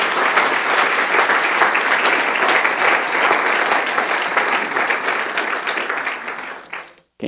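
A church congregation bursts into loud, dense applause for Jesus. The clapping holds strong for several seconds, tapers, and then cuts off abruptly.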